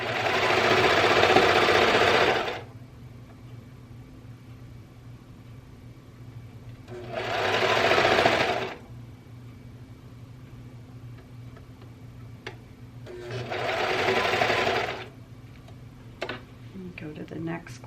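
A sewing machine stitches a knit neckband in three bursts of steady rapid whirring, each about two seconds long, separated by quieter pauses with a low background hum and faint clicks.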